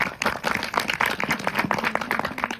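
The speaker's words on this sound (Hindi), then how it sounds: "एक जोरदार ताली बजा दो इनके लिए।" An audience at a devotional gathering clapping loudly and quickly, a crowd's rapid, close bursts of hand claps with a faint voice or tone running beneath, lasting a few seconds.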